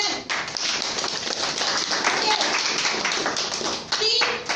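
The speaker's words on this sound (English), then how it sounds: "Claps for them." A small group clapping in a classroom conversation club, a quick burst of hand claps that continues unevenly, close and fairly loud, with voices and some tapping mixed in.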